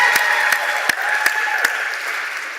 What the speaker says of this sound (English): Let's give Lisa a round of applause.